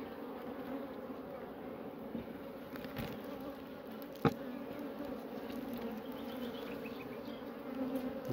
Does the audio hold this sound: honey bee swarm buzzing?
yes